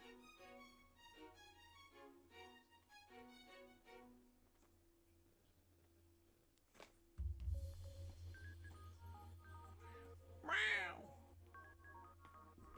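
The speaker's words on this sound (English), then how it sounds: "every single thing pretty much is him meowing" A very vocal pet cat meows loudly, a single drawn-out rising and falling cry near the end, following a stretch of beeping phone-like tones and a low hum; the cat is close and clear.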